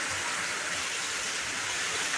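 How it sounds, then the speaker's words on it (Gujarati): Dense, roaring patter of heavy rain drumming on tin roof sheets, constant and loud throughout with no pauses. "પતરા હે ને એટલે પતરામાં અવાજ બહુ આવે વરસાદનો"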